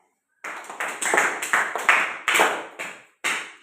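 Children in a classroom clapping in short bursts, a run of brisk, close group claps with brief pauses between.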